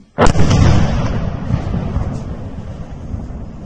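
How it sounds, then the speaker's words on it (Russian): A loud explosion after a missile strike on an S-400 air defence complex in Crimea, a sharp blast followed by a long rumbling roar that slowly fades, with wind buffeting the microphone outdoors. "Это что у них там взорвалось."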